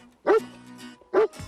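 A leashed dog on a walk, worked up at a cat, lets out two sharp, loud barks about a second apart, with a soft whine in the gap between them.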